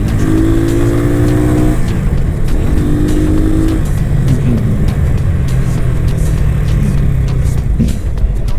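An FKM Agimat 175 motorcycle engine revs loud and close during a test ride, climbing and holding in a few rising pulls, then settling into a steadier droning run with shifting pitch.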